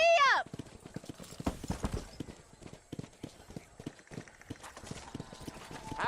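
Horse hooves clip-clopping at a gallop in the Western video game Red Dead Redemption, a fast rhythmic run of thuds after a brief whinny at the start, with voices talking over it.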